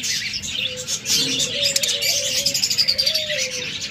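A pair of caged pet lovebirds, cockatiels or budgerigars chirping close by, with quick bright tweets and a sustained whistled call rising and falling, followed by a rapid run of short chirps.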